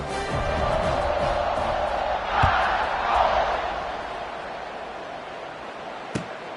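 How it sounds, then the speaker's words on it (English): Stadium crowd in a college football video game, Notre Dame against Alabama, buzzing as a steady broad roar through the whole stretch, swelling briefly in the middle, with a sharp thud near the end. "this crowd is buzzing after that last score"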